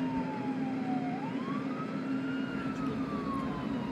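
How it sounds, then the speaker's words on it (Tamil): An ambulance siren wails in a slow rising and falling sweep over low road rumble, steady and fairly loud as it approaches, with no talk. "அங்க பாருங்க, ஆம்புலன்ஸ்ல வந்துட்டு இருக்காங்க"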